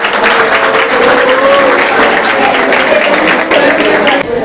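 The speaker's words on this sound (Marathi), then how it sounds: "जोरदार टाळ्या होऊन जाऊ द्या" Steady, loud applause from a studio audience at a Marathi quiz show for exam aspirants, continuous clapping filling the whole stretch and easing slightly at the very end.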